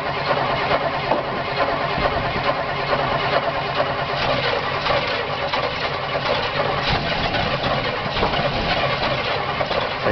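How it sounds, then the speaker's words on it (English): A diesel vehicle engine without working glow plugs cranks continuously without catching, a loud, steady churning drone held close for about ten seconds with no voices. "Let's see if we can crank her up."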